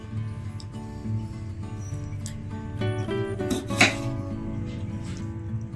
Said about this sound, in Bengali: আলুগুলোকে আমি 1/2 করে কেটে নিচ্ছি।